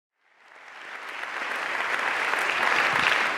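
An audience breaks into applause at a talk, swelling from silence into dense, loud clapping that keeps building through the end.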